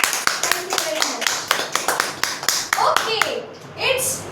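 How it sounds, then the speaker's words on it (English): An audience at a seminar gives a burst of applause after a performance, a dense run of close claps that fades out, while a voice and other people talk over the end. "A big clap for Apsa."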